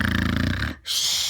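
A human voice imitates a bear snoring, giving a loud, rough, rhythmic rasp that breaks off in a brief gap and then returns as a breathy, hissing exhale.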